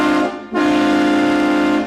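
Train horns fitted to LaMelo Ball's custom Hummer blast loudly in two sustained chord-like tones, a brief one and then a longer steady one after a short dip, with no speech.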